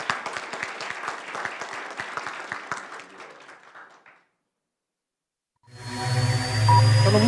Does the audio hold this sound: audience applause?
yes